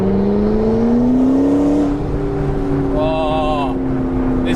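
A McLaren 650S Spider's engine drones loudly and steadily with a rising exhaust tone, and a brief high whistling whine of the turbo spooling cuts in partway through.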